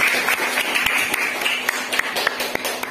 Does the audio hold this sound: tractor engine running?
no